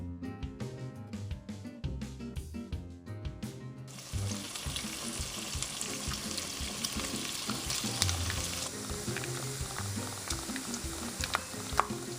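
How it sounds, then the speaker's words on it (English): Cubed jowl bacon renders and fries in a pan, starting with choppy stirring and clatter, then settling into a loud, dense, continuous sizzle and crackle with occasional pops, close up and without talking. "I'm going to cube it and I'm going to render it down"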